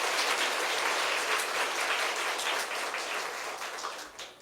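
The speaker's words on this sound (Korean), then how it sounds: "하나님께 영광의 박수 올려드립니다" A congregation at a Sunday afternoon youth worship service in a Korean church gives sustained, even applause that fades slightly toward the end.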